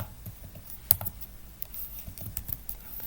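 Code being typed on a computer keyboard, a quick irregular run of soft close key clicks with a few sharper taps, with no talking.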